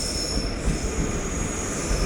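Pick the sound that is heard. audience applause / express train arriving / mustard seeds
express train arriving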